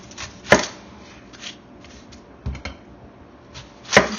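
Sharp knife dicing a red onion on a cutting board, a few separate crisp knife taps spaced apart, close and moderately loud against a quiet kitchen background.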